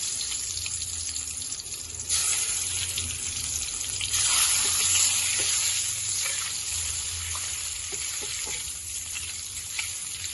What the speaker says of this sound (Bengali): এরপর আমি এর মধ্যে ডিমগুলোকে দিয়ে দেবো ফ্রাইয়ের জন্য।